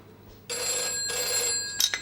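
A telephone bell rings loudly and steadily in a quiet room, one long continuous ring that cuts off briefly before starting again, with no voices over it.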